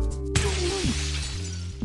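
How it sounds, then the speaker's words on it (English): Windshield glass shattering in a car crash: one sudden loud smash followed by a sustained bright spray of breaking glass over a low steady drone. "I smash through the windshield with the same speed as the car had before it crashed"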